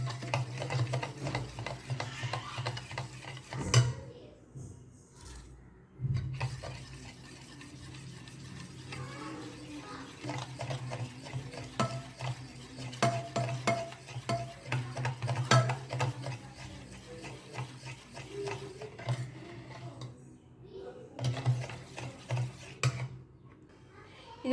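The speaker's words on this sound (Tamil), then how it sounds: "நல்லா மிக்ஸ் பண்ணிக்கோங்க." Rice flour pudding cake batter being mixed in a bowl, with continuous scraping and sloshing stirring strokes at close range and a few brief pauses.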